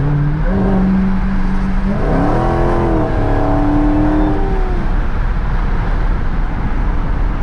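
A 2020 Dodge Challenger SRT Hellcat Widebody engine revs up loudly, its pitch climbing through gears with rising whines, over constant road and wind noise.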